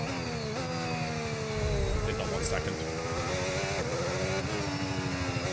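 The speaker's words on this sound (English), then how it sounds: "It sounds like I have a flat tire" An F1 25 racing game car runs with a damaged, flat tire, its engine droning steadily and shifting pitch through gear changes, with a rough, flat-sounding rumble underneath while a voice speaks briefly over it.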